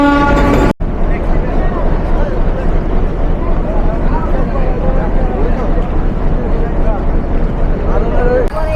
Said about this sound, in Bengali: এই মুহূর্তে ট্রেনটি প্রবেশ করছে প্ল্যাটফর্মে।